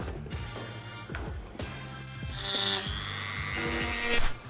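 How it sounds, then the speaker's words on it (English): A Dremel rotary tool cuts a channel into a ski boot liner, its bit whining and buzzing in short bursts and steadier passes at an even pace, close and fairly loud with no talking. "Now when you are using the Dremel to make the channel, just keep a nice, slow, even pace and just let that bit do all the work."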